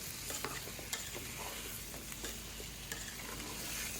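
Chunks of bottle gourd sizzle and fry with spices in a pan, while a utensil scrapes and stirs them in steady, close strokes over a constant hiss.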